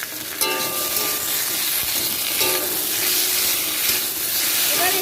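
Cumin and green chili paste sautés in a pan for fish curry, giving a loud, continuous sizzle and hiss with a few clinks and stirring scrapes close by.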